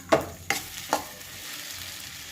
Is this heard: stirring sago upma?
yes